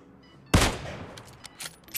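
A single sharp gunshot cracks loudly in a shooter video game, followed by a few fainter distant shots and scattered impacts over a quiet background.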